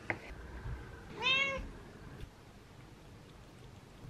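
A single cat meow rises briefly over a quiet room, clear and close, followed by near silence.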